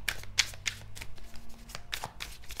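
Tarot cards are shuffled by hand in a quick run of crisp riffling bursts, close and fairly quiet, with no talking.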